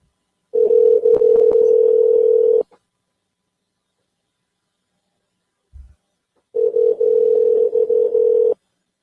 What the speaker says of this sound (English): Well, it's ringing now.